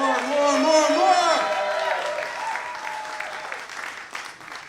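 An audience at an evening event applauds and cheers for itself, a loud sustained roar of clapping and whoops that gradually tapers off, with shouting voices layered through the first part.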